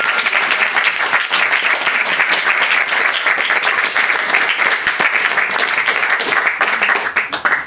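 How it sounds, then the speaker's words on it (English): An audience applauds after a poetry reading, loud dense clapping that holds steady for several seconds before starting to thin at the very end. "one more round of applause."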